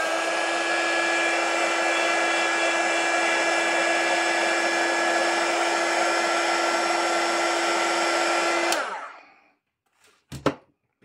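A hair dryer blows steadily at close range while drying hair, a constant whirring hum that cuts off abruptly, followed by near silence and a couple of faint handling noises.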